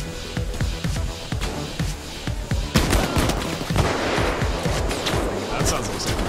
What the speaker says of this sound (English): That sounds like snipers.